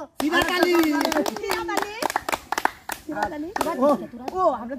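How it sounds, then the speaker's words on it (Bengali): Audience applause for a contestant at a balloon-popping game, a burst of close, loud clapping from a small crowd, mixed with a voice talking and a child's vocal sounds partway through. "আমরা ইমনের জন্য একটা জোরে করতালি"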